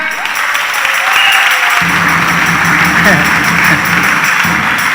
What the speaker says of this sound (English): Shall we give the Lord a big hand?